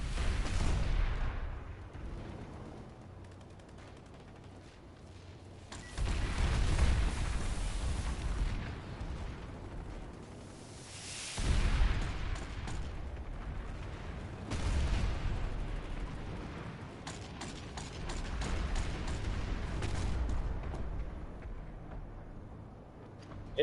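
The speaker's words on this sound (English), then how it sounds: "Just firing my cannons into the abyss." A vehicle cannon in the sci-fi shooter Planetside 2 firing repeatedly with a reload after every shot, producing heavy booming blasts a few seconds apart, each trailing into a low rumble over a continuous background roar.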